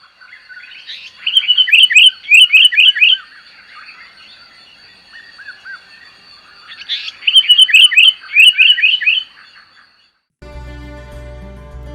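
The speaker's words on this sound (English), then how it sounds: "The red-bellied paradise flycatcher is a noisy bird with a sharp call." Red-bellied paradise flycatcher giving sharp, rapid chirping call phrases in two loud bursts several seconds apart, clear and near, followed by a short stretch of a different tonal buzz.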